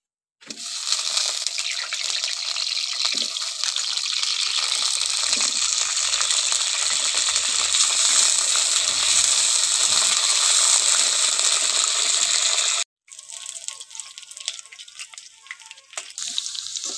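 Potatoes fry in hot oil in a wok over a lit clay stove, giving a loud, steady sizzling hiss that cuts off abruptly, then returns quieter and more uneven. No voices are heard.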